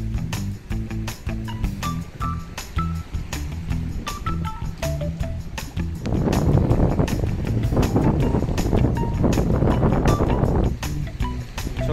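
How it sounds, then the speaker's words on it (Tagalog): Strong sea waves on a beach shore, a steady broadband wash of surf and wind that swells louder and denser midway and stays heavy to the end. "Malakas ang alon."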